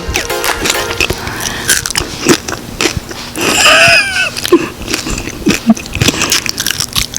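Loud, crisp crunching bites into Chinese fried chicken skin close to the mic, several in a row with brief pauses between.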